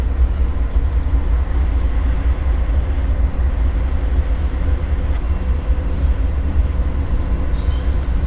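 An Amtrak passenger train led by locomotives rolls past Coffey's Cliff, a steady loud rumble and rail clatter filling the whole stretch with no voices.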